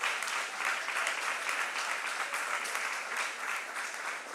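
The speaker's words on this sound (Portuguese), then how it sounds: "Vamos aplaudir ao Senhor." A church congregation at a Sunday evening service applauds, a thick, sustained wash of many hands clapping at even strength throughout.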